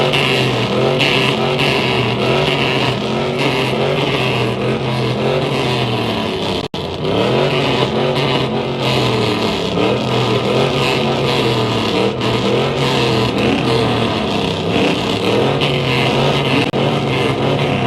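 A truck at a truck show revs hard and spins its wheels, a loud, continuous engine roar with rising and falling pitch sweeps and dense crowd and ambient noise throughout, with one brief dropout midway.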